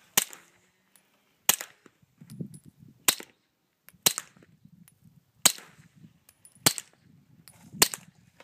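Suppressed 9mm Glock pistol shots at an outdoor range, eight sharp cracks spaced roughly a second apart, each followed by a short low thump and brief echo, fairly close with quiet gaps between.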